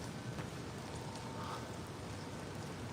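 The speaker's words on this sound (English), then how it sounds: "it's not raining as much as it was just a second ago" Light rain patters steadily and softly outdoors during a walk past a stadium and a little creek, a continuous, faint wash of drops with no talking.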